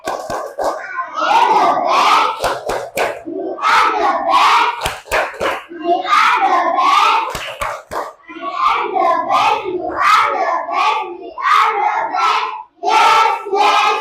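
Schoolchildren perform the 'tepuk the best' chant together, loud rhythmic clapping patterns alternating with shouted group phrases in a steady repeating cycle.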